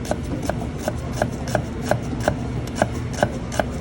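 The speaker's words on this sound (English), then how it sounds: "I'm gonna take the tip of my knife and we're just gonna slice down." A kitchen knife slices down through a lemon on a cutting board, in a steady run of about ten short, crisp cuts, close and clear, with no talking.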